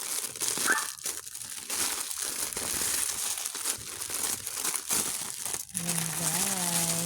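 Plastic parcel packaging crinkles and tears as it is opened, steady rustling with dense crackle throughout; people talk over it, and a long tonal whine or vocal note appears near the end.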